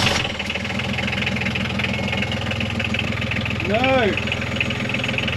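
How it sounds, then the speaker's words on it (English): A sailing boat's engine cranks and chugs in a steady mechanical rhythm as it tries to start, close and loud, with a brief voice heard over it. "he's ready to start the engines"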